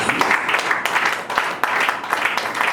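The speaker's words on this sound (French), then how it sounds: "On acclame le Seigneur, nous acclamons Jésus." Church congregation applauding and acclaiming Jesus during a worship service, steady dense clapping with a few brief dips, moderately loud throughout with faint voices mixed in.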